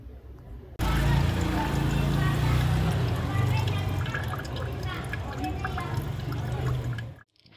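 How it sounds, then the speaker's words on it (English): Water draining from a hammer-cracked coconut, a steady liquid trickle and splash running for several seconds, with a low hum beneath and a voice talking over it. "then we drain the water"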